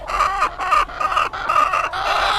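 Egg-laying hens on a small farm cluck loudly and close by, a rapid run of overlapping throaty calls and squawks with no talking.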